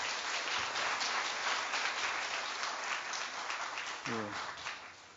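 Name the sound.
audience applause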